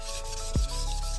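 A short, close rubbing rasp of sandpaper on wood, one quick stroke over a steady background hum.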